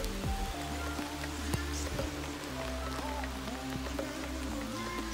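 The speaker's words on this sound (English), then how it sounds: "Raining." A steady wash of rain pattering on surfaces, broken by occasional sharper drips and clicks, with no one speaking.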